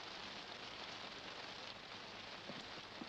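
Steady rain falling at night outdoors in a 1951 Western film, a dense, even wash of hiss with faint drops and no talk.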